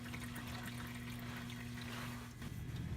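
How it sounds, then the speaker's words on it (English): Transmission fluid draining from a Ford Focus or Fiesta DPS6 Powershift transmission, a steady faint liquid trickle with a low hum underneath, continuous and without talk. "just let it drain for a couple minutes till we get a few inconsistent drips"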